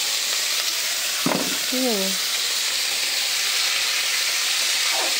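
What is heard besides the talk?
potatoes frying in oil in a wok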